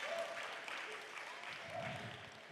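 Scattered, faint applause from an audience at a community town hall meeting on redefining schools, a soft patter of clapping heard from across the room.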